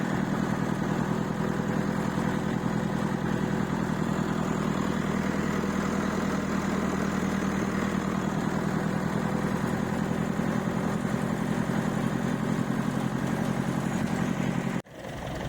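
A tractor engine idles and runs continuously at close range, a steady low rumbling throb that holds evenly before cutting off abruptly near the end.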